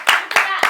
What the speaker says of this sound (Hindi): मंजू के लिए एक बार तालियां बजाई जाए